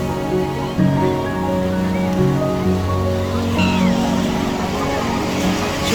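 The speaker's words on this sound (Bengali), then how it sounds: "সমুদ্রের ঢেউ আস্তে আস্তে পড়তেছে এখানে" Sea waves wash steadily onto Haeundae Beach in Busan, a busy swimming beach, as a continuous broad surf wash with faint background voices and other beach noise mixed in.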